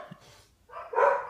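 Dogs indoors give a short, muffled bark, then a louder bark close by near the end, brief and isolated in an otherwise quiet room.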